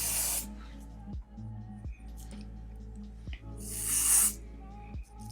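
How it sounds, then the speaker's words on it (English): Adhesive spray is misted along the hairline of a lace wig in short hissing bursts, with a few quick sprays and a longer one, close and fairly soft, separated by brief pauses. "I'm just going to be spraying on the hairline"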